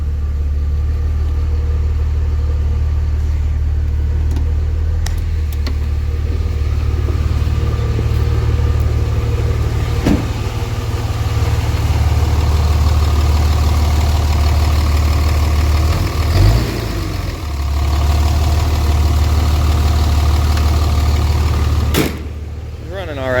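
A 500hp second-generation Cummins dually truck with a blown head gasket idles in neutral, a loud, deep, steady diesel rumble close by, with a brief rev swell partway through.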